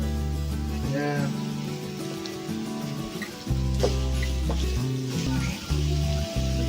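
Ground pork frying in a pan with onion, a constant crackling sizzle heard up close beneath steady tonal background music, with no talking.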